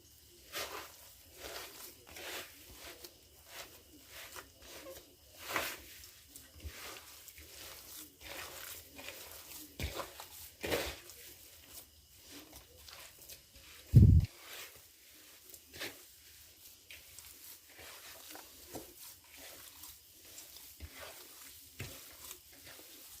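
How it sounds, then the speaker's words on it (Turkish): Hands knead Hasanpaşa köfte mixture of ground meat seasoned with black pepper, chili flakes and red pepper powder, giving soft, faint, irregular squishing and slapping with one brief louder thump midway; no one speaks. "Şimdi köfte harcımızı iyice yoğuralım."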